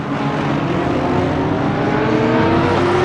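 GT3 race cars in Assetto Corsa Competizione, racing at Kyalami, give off a steady, loud engine drone. The whine climbs slightly as the cars sweep past, with no voices over it.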